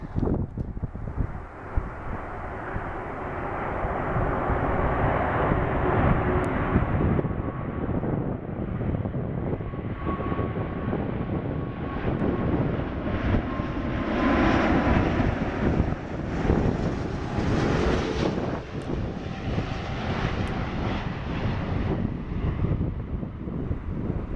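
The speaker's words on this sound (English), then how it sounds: "The Airbus A340 600 arriving in to Dulles International Airport." An Airbus A340-600 airliner arriving at Dulles International Airport, a loud continuous jet engine roar that swells and holds for over twenty seconds, mixed with wind buffeting on the microphone.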